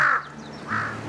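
Two loud, harsh caws from a nearby crow in a forest campsite on Jeju Island, separated by a short pause.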